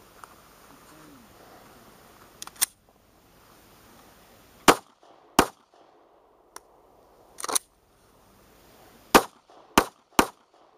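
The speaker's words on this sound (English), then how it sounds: "you see a simple tap rack, tap the gun off my hips." A pistol fitted with Ameriglo sights being tap-racked to clear a malfunction: a series of sharp, loud metallic clacks and slide snaps spaced a second or two apart, close up with almost no talk.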